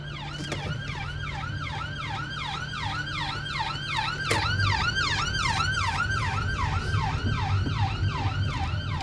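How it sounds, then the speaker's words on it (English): Ambulance siren passing along a road, a loud rhythmic wailing sweep repeating steadily for several seconds over low traffic rumble, with a brief thump partway through. "Got an ambulance coming up here, people."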